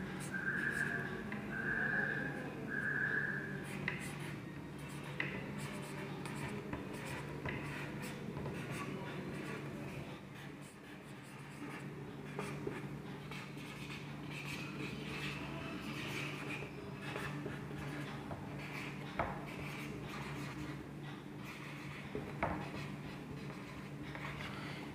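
Pen or pencil writing letters on paper during an Urdu handwriting lesson, a faint steady scratching over a low background hum, with a few whistle-like tones near the start.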